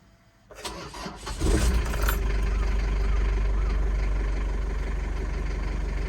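A camper van engine cranks briefly, catches after about a second and settles into a steady low idle rumble, close and fairly loud with no speech.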